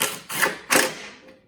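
Three quick ratcheting bursts come up close while bolts are snugged during an oil change on a 2020 Toyota 4Runner, each a short clicking whir with a brief pause between.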